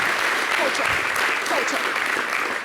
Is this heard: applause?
yes